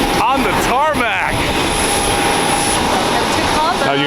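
Jet aircraft engines whine and roar loudly on an airport tarmac in Cabo San Lucas, a dense, constant drone with a high-pitched tone and people talking over it.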